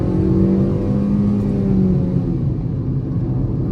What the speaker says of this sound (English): Okay, so let's launch this. You can hear some wheel spin.